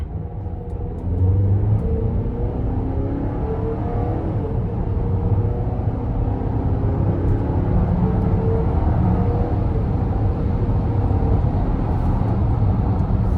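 2024 GMC Acadia Denali with its 2.5-liter turbo four, heard from inside the cabin pulling away on light throttle: a steady low engine drone and rumble that rises slightly and holds evenly throughout.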